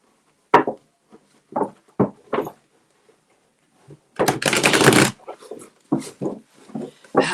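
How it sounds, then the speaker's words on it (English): New tarot cards are riffled and shuffled up close in quick papery bursts, with a longer rustling cascade in the middle and short taps around it. "there's nothing better than a brand new tarot card. They're so easy to shuffle."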